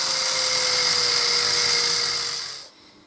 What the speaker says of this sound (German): mit der Schrubbscheibe von der Flex arbeite ich grob die Konturen raus